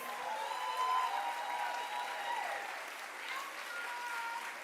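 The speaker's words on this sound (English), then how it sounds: "We need to give another round of applause, please." Steady applause from a crowd at a poet laureate celebration, dense continuous clapping that stays fairly even in volume across the whole stretch.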